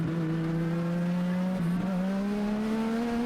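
Race cars at the Cookout Summer Shootout at Charlotte Motor Speedway come off turn 4, with loud engines rising in pitch as they accelerate. The roar is continuous and close, layered with several overlapping engine tones, and no voices.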